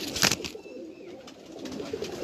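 A perched red-headed, black-tailed pigeon coos softly in a low, continuous murmur, with a brief burst of noise near the start.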